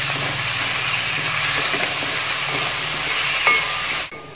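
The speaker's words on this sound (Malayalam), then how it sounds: "ഇത് നന്നായിട്ടൊന്ന് വഴറ്റിയെടുക്കാം." Onions sautéing in a pan for a Kerala-style beef kurma, a continuous dense sizzle with faint stirring, ending in a sudden cutoff near the close.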